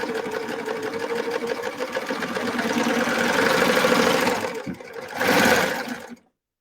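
A serger sewing machine whirs steadily while gathering fabric for ruching with its blade engaged, a loud continuous mechanical hum that builds and stops briefly before a final short burst.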